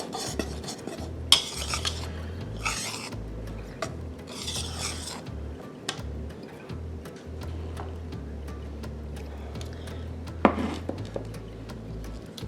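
Scraping and rubbing of a utensil mixing dry pumpkin bread ingredients in a bowl, with rasping swishes coming in irregular bursts and an occasional sharp clink, no talking.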